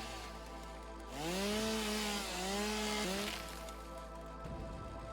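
A chainsaw in the video game Satisfactory revs up in two rising, whining pulls and then settles back to a low idle hum, fairly quiet and heard alone.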